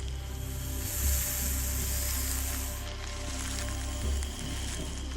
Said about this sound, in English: It coils its body and rubs its scales together to make a sawing sound.